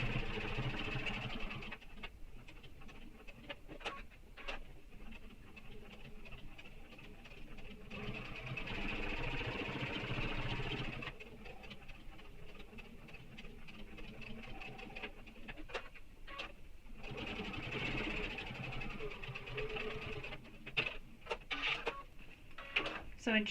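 Sewing machine running a basting stitch across a fleece-lined backpack front panel, bursts of rapid mechanical whirring separated by pauses, with speech in between.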